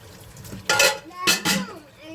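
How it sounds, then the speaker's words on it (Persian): Dishes being washed by hand in a home kitchen: a few sharp clinks and clatters of plates and cutlery, with soft handling noise between them and no talking. "حالا ظرفا رو قشنگ با پسرم میخوایم بشوریم"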